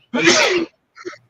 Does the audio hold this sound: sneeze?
yes